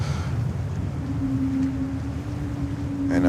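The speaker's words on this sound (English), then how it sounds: "know that sound from the geared Pratt & Whitney 1500 engines" Geared Pratt & Whitney 1500 airliner engines at JFK airport, a steady low rumble joined by a sustained tonal whine that swells and holds, with the sound building louder toward the end.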